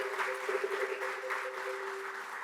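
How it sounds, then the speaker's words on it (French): An audience applauding the guests at a Lassa fever health conference in Côte d'Ivoire: sustained, even clapping from a large crowd in a hall, fairly distant and steady throughout. "je voudrais que nos frères et sœurs ivoiriens ici acclament la présence de tous"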